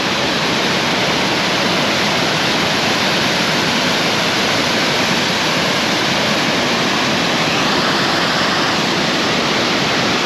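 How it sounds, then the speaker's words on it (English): A waterfall near Tully pours with heavy flow, a loud, dense, unbroken roar of crashing water that holds steady and close throughout. "some water pumping down that"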